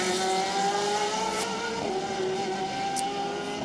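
Endurance race cars lapping at the WEC 6 Hours of Bahrain, a steady loud engine drone with shifting pitch throughout, cars passing at close range.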